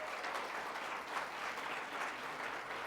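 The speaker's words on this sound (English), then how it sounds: "Let's give them a round of applause." Audience at a civic community event applauds steadily, a broad even wash of many hands clapping at moderate distance without pause.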